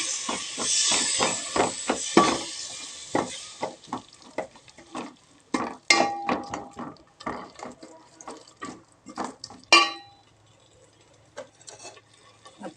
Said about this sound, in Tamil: அதுக்கப்புறம் புளி கரைச்சல் ஊற்றுறேன்.